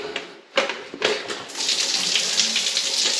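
In a campground restroom at Cleburne State Park, a few knocks and clunks give way to a shower spraying water in a steady, hissing stream that carries on to the end.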